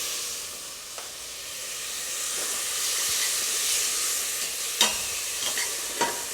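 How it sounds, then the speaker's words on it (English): Brandy goes into a hot braising pan to deglaze it, a broad sizzling hiss and steam rising and swelling, with a few sharp scrapes and clicks of a utensil stirring up the fond from the bottom. "I'm going to deglaze with some brandy,"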